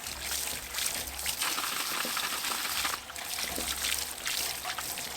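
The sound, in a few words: rinsing out clogged stormwater pipe end caps with water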